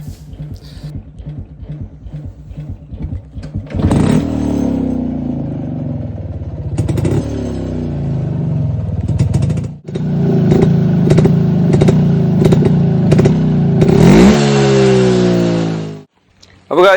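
A Yezdi Monarch motorcycle starts with a low clattering idle, then revs up loudly in repeated rising bursts close by, cutting out briefly before firing again.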